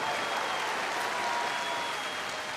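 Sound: concert hall audience applauding

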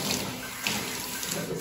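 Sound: water running while washing a cat's beard in a bath

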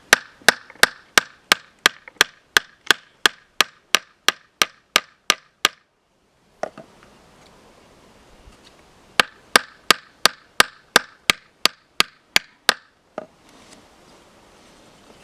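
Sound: hammering to peen a knife blade

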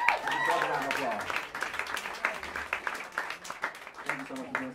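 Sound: audience applause at Smalls Jazz Club

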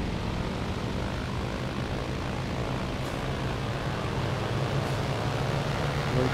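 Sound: low-flying aircraft engines in a video game

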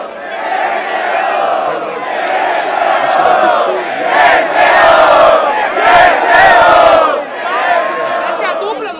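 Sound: crowd cheering

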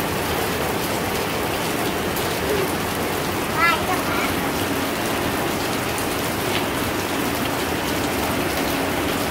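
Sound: heavy rain falling

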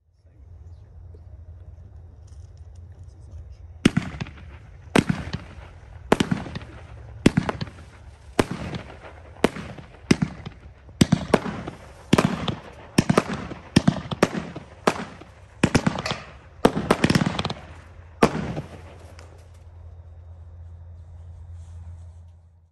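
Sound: Silent Power low-noise firework cake, 15 shots

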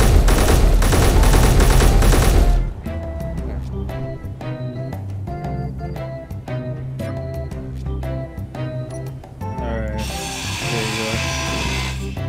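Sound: gunfire in video game Space Engineers

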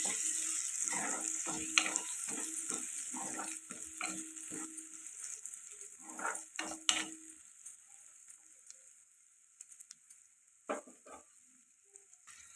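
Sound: masala and peas frying in pan for paneer curry

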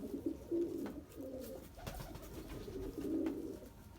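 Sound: pigeons cooing after being moved out of flooded coop

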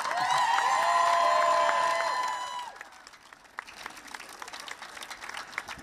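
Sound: crowd clapping and cheering for health workers and carers

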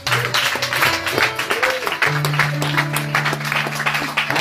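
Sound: church congregation applauding

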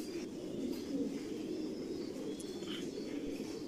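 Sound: racing pigeons cooing

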